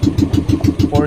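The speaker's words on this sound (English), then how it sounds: "By the way, I am using the propeller of Attorney Gabriel Octava" A motor boat engine runs steadily during a jigging trip at a fishing spot off the southern part of an island, fitted with a borrowed propeller, giving a close, loud, rhythmic low throb that pulses about five times a second.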